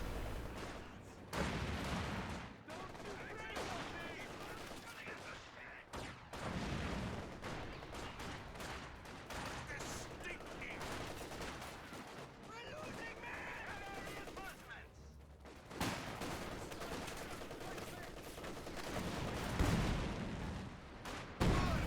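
Dense in-game gunfire from Company of Heroes 2, with MG34 machine-gun bursts and barrage fire overlapping flamethrower and battle noise, a steady loud din under continuous commentary.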